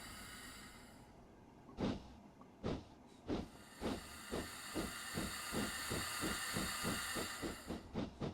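A BR 4F Fowler steam locomotive in Train Simulator 2016, heard from the cab: a steady steam hiss under rhythmic chuffing exhaust beats that start sparse and quicken into a regular, fairly loud pulse.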